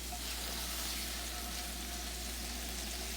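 Brined pork chops sizzle steadily in a hot pan, a constant even hiss with no voices over it.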